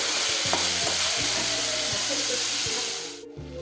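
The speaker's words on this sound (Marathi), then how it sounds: "हे बघा इथं मस्त मटकीची भाजी चालू आहे" Moth bean (matki) curry frying in a pan, a steady loud sizzle with repeated scraping stir strokes at a roughly even rhythm, fading out near the end.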